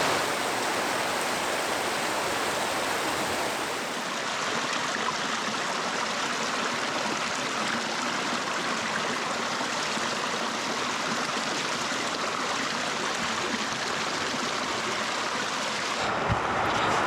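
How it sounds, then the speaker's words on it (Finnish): Petäjikkö brook, a forest stream on a Finnish hiking trail, rushing steadily as a loud, broadband, unbroken wash of water that stays close and even throughout. "Paikka on siis Petäjikkö-puro."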